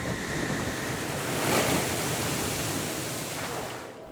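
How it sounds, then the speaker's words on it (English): Roaring wind and crashing surf from Super Typhoon Ragasa battering the coast of Asia, a loud, continuous wall of broadband noise that swells slightly midway and never lets up. "Winds still screamed at 144 kilometers per hour."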